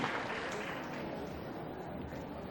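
An auditorium audience claps at the MATA SEVA Days grand finale in Ravindra Bharathi Auditorium, a steady, dense wash of many hands sustained throughout at moderate loudness.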